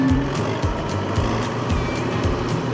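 A tractor engine driving a PTO mulcher runs loud and close, a steady rough rumble with rhythmic pulsing as the revs come up, no voices over it.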